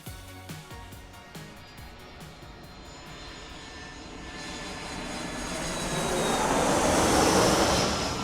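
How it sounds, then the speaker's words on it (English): A passenger jet roars through its takeoff, the broadband engine noise swelling steadily louder and fuller over several seconds with no voices. "the roar you hear during takeoff is fuel being burned at the fastest rate of the entire journey"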